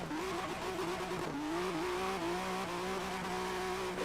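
A modded Ford GT in Forza Horizon 3 roars at full throttle in fifth gear, a steady loud engine tone that climbs gradually in pitch with a brief dip mid-run, with faint tyre noise.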